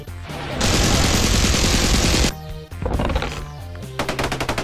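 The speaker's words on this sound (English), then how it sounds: "Got a minigun, and yes, I am mining with a minigun." A minigun fires in an Xbox Live indie game while the player mines, giving a loud, dense, sustained roar of rapid fire for nearly two seconds, then further bursts of fast, rattling shots, close and with no talk.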